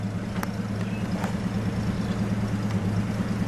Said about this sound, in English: Let me listen to it idle.